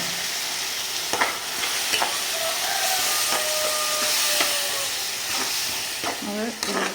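Chopped onions and freshly blended tomato, about three tomatoes, sizzle and hiss in a hot pan while being stirred, with repeated scraping strokes over the steady frying noise.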